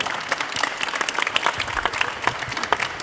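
Dense, steady applause from a conference audience, continuous clapping at an even level throughout with no voices on top.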